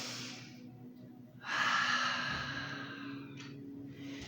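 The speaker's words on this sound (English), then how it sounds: "option to switch to ocean breathing, which is a little bit of that sound I just did" Audible breath during a chair yoga sequence: a long, steady exhale through the nose with a breathy rush that swells and then fades slowly, followed by a brief second puff, close and fairly soft.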